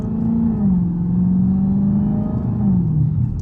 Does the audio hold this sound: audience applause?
no